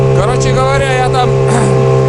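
An outboard motor pushes a boat along a river, its engine drone holding steady beneath someone talking close by.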